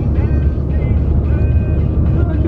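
Small car driving, heard from inside the cabin: a loud, steady low engine and road rumble with faint tonal whine, continuous throughout, with no speech.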